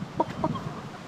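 Backyard chickens give two or three short, soft clucks close by, with quiet ambient background around them.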